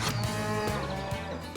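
A dairy cow on a fully robotic farm gives a deep, drawn-out moo up close. It has a few short breaks and some farm background noise but no talking.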